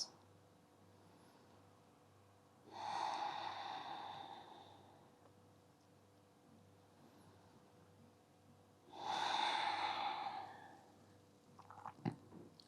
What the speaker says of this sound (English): focusing on those slow and long